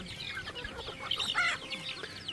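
Chickens clucking around a rural Thai house under construction, a steady stream of close, busy clucks and squawks layered over each other with outdoor background noise and no speech.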